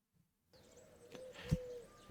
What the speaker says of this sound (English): I do like that bird sound there.